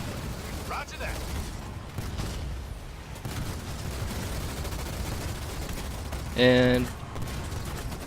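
Cyclops units attack Warthogs in the video game Halo Wars 2, with a faint, continuous clatter of gunfire and mechanical battle noise, a short tonal alert near the end, and a voice speaking briefly over it.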